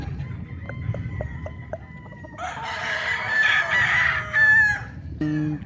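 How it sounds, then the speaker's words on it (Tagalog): Hens cluck in short repeated bursts on a rural gamefarm, then a rooster crows loudly nearby, followed by more clucking and a final crow. "mga manok natin."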